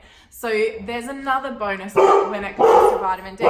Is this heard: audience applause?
no